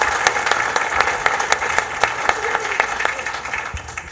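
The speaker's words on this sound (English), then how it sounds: "Give him a round of applause" A group applauding at a real estate investing talk, loud, fairly dense clapping with distinct individual claps standing out, holding steady before tapering slightly at the end.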